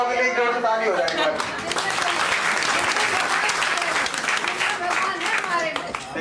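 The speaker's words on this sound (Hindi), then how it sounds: "माताओं के लिए जोर से ताली हो जाएगी।" An audience at a house program in Sorkha, Noida breaks into loud, sustained clapping that stays thick and steady to the end, with a voice briefly audible at the start.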